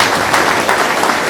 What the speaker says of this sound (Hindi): एक बार मुझे तालियों से आदेशित करिए।